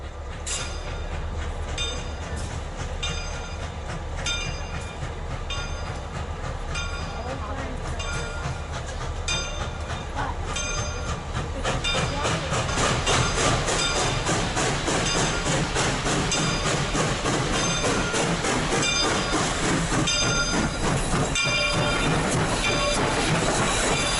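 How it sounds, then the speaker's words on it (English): Locomotive number 425 making a run-by on an autumn leaf excursion at Port Clinton in 2018: a heavy rumble and rhythmic clatter of wheels that grows louder and denser as the train passes close by. "We will now see a run-by of number 425 during another autumn leaf excursion in 2018."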